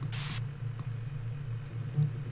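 A short, loud burst of white noise from music production software hisses for a fraction of a second near the start, then cuts off, leaving a low steady hum underneath.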